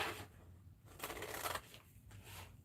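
Scissors cut fabric hearts for a Valentine sweatshirt in a few short close bursts of snipping and rustling fabric, with quiet pauses between them.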